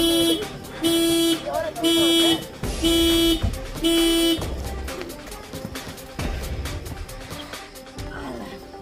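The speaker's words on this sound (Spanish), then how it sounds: "Es la alarma, amiguita, es la alarma." A car alarm blares in repeated loud pulsed bursts, then gives way to rapid chirping tones, with people talking over it.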